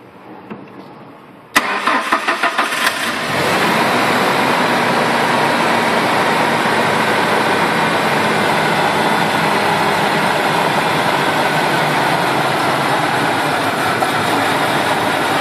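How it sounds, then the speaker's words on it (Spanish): A car with a lean-running fuel condition cranks and catches, then settles into a steady, loud idle that holds evenly for over ten seconds with no talk. "Vamos a echar a andar el vehículo"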